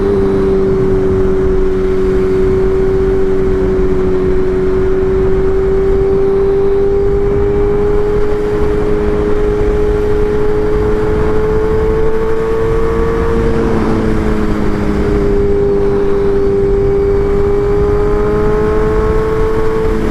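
BMW M1000R Competition motorcycle fitted with a titanium header and mid pipe, engine running steadily for about twenty seconds with a loud, sustained droning tone that rises and shifts pitch near the middle as it revs, with wind noise underneath.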